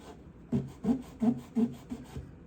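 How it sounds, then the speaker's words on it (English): Steel wool scrubs the frets and fingerboard of a guitar in six or seven quick, rhythmic back-and-forth rubs, close and fairly quiet, with no talking. "That nail is jamming the steel wool into the crack."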